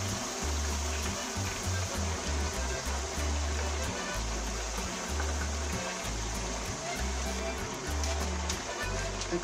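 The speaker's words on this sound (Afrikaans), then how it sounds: "Sak dit maar stadig in jou olie in" Potato chips lowered into hot oil for home-made slap chips, a steady loud bubbling and hissing sizzle that continues throughout with no voices.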